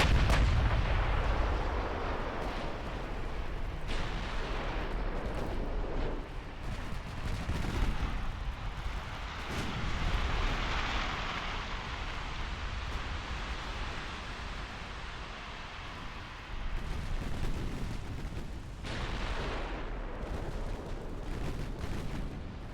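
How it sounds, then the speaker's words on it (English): Naval gunfire and torpedo hits in the warship game Ultimate Admiral Dreadnoughts, a dense, continuous rumble of heavy booms and blasts that rolls on for the whole stretch with no clear pauses. "Are those torpedo hits? Yeah, first round of torpedoes are going in."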